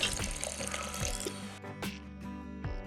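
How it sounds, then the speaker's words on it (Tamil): Water pours steadily over flattened rice (aval) and splashes for a couple of seconds, then tapers into a few scattered clunks and drips, heard up close. "அவல் மூழ்கிற அளவுக்கு தண்ணி நான் ஊற்றிக்கிறேன்."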